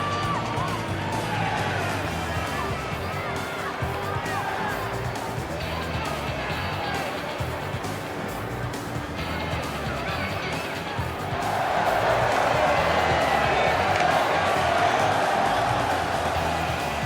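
A packed arena crowd in the WWE 2K20 wrestling game roars steadily and swells noticeably louder toward the end, with commentators talking over the noise.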